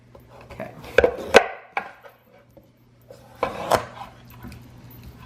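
A knife cuts through a pie pumpkin in a few separate bursts, with sharp cracks and thuds of the blade against the tough flesh and the board, close by, then quieter pauses between cuts.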